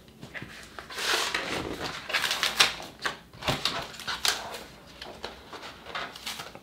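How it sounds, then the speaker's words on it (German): A paper-cutting machine scans printed registration marks and then cuts 200-gram paper, giving a close run of quick clicking, tapping and whirring mechanical bursts with no talk. "Dann wird er die Passmarken ablesen und dann das Ganze auch schneiden."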